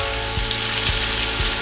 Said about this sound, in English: because I had the skillet on a really, really high heat, these should sear pretty quickly